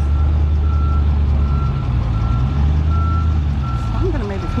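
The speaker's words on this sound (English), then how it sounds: "back his truck up against the trailer so that it doesn't roll down" A truck reverses up against a trailer on a steep incline, its backup alarm sounding a steady series of evenly spaced beeps over a loud, continuous diesel engine rumble.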